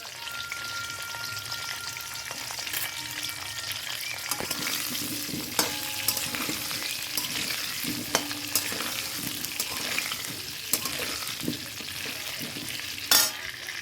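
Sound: onions frying with salt and turmeric

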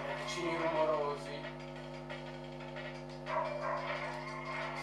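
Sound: neighbour's dog barking

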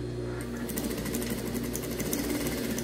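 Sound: sewing machine stitching around a fabric tab

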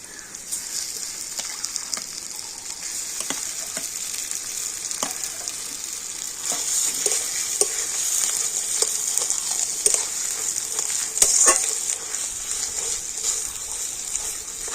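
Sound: boiled mashed potatoes added to frying pan and stirred

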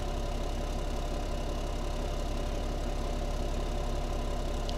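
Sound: tractor engine while ploughing in Farming Simulator 17 video game

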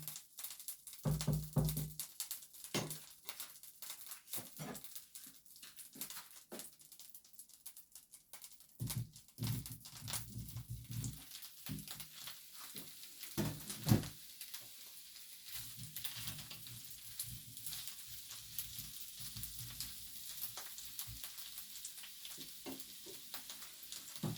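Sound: Brussels sprouts tossed into a pan and frying

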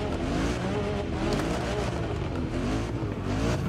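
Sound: Jeep Wrangler 392 engine revving in The Crew Motorfest video game

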